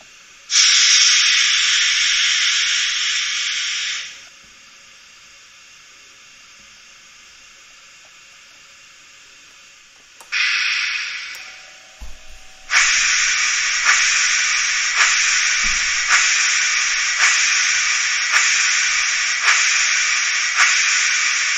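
Hiss of a Märklin H0 scale model steam crane, the Ardelt 57 t, straining to lift a 122 g load of metal plates: a loud steady steam hiss, then a pause, then renewed hissing with rhythmic puffing pulses, no voices.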